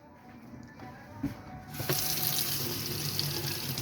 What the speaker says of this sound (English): Plenty of hot water coming out the taps.